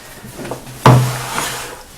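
A camp chair is jammed into a bag with one sharp thump, followed by a brief scraping rustle and a couple of softer knocks, close and without talk.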